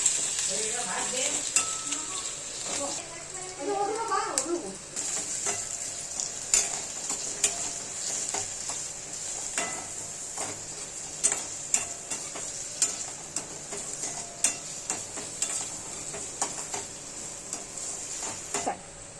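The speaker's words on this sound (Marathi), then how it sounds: "एक कांदा उभा चिरून टाकलेला आहे आणि चांगलं लाल होईपर्यंत परतून घेऊया" Sliced onion sautéing in a pan until reddish, with a steady bright sizzle and frequent ticking spatula clicks and scrapes. Brief murmured voices sit under it near the start.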